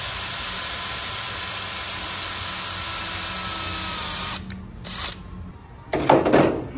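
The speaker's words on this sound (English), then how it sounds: "I'll go ahead and load it up in my drill. Right in that spot that I use a center punch on. And drill into it." A power drill bites into a transfer case seal on a late model GM 4x4, running as a loud, steady whine for over four seconds, then stuttering and bursting through short, rougher grinding pulses.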